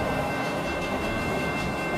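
AI-generated sound of a train passing by: a steady, dense rumble and roar of rolling rail cars that holds an even level throughout, with no talking.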